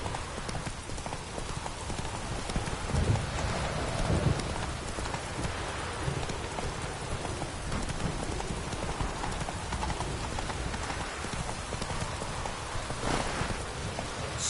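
Roach the horse in Witcher 3: rapid, steady hoofbeats at a gallop, close and continuous, over a soft rain-like hiss of ground noise, with no talk.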